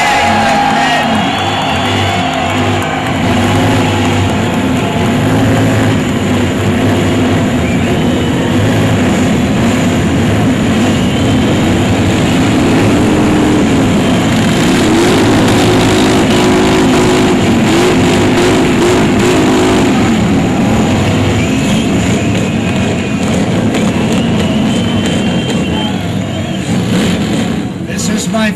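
Many Harley-Davidson motorcycles rumble and rev at the Buffalo Chip rally in Sturgis, South Dakota, a loud continuous engine roar that runs the whole time beneath someone speaking over a public address.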